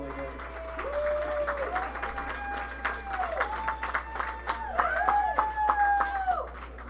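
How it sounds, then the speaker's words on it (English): Clapping from a talent show audience runs throughout, steady and moderately loud, with rising and falling whistle-like tones sweeping over the crowd noise. "Can we get another round of applause for that guy?"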